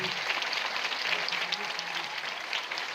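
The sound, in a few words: audience applause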